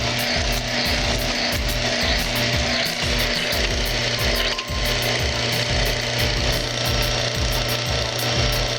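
A lubricity test machine lubricated with Mobil SHC 634 synthetic gear oil is cranked hard under steady pressure, giving a continuous loud mechanical grinding and rattling with a fast repeating ratchet-like rhythm and a steady hum underneath.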